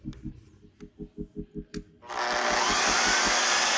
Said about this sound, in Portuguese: Vamos tá ligando ela pra nós fazer o teste agora